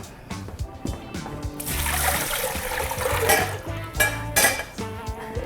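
Metal clanks and scrapes as a pan is set onto a home kitchen stove while making French onion soup, several close knocks and a brief rushing hiss in between.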